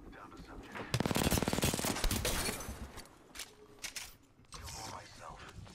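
Rapid automatic gunfire in Apex Legends, a dense burst of shots followed by mechanical clicking of reloading, with scattered further shots and voices talking over the action.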